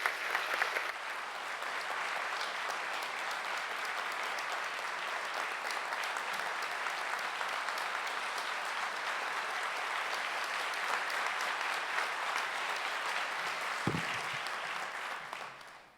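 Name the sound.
applause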